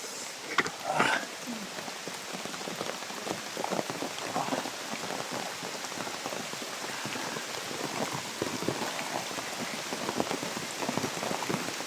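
Heavy rain pours steadily outdoors during a storm, a dense continuous hiss of drops on surfaces with a few louder splashes, close and enveloping, with no talk.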